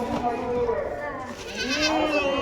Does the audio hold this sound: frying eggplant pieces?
no